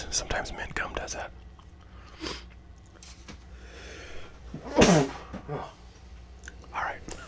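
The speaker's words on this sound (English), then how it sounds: "that gum kind of makes me want to sneeze." A sudden loud sneeze bursts out midway, set among soft whispering and quiet mint gum chewing while opening basketball card packs.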